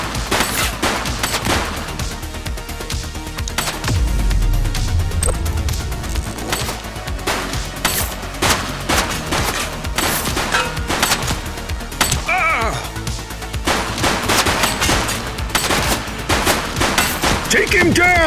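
Repeated gunfire from a suspect in the police simulator game The Precinct, rapid loud bursts and single shots crackling throughout alongside a heavy low rumble, with occasional voices in the mix.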